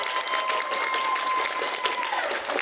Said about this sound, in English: So please give them a round of applause, and all of my participants a round of applause.